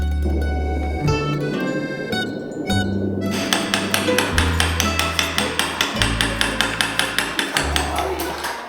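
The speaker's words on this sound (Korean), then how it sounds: "나무를 만지고 깎고 목공의 서각 수업이죠" A mallet strikes a chisel carving wood in a traditional Korean wood-carving class, quick, evenly spaced wooden taps, close and fairly loud, following a few ringing, metallic tones at the start.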